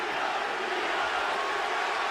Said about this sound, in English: And the crowd is chanting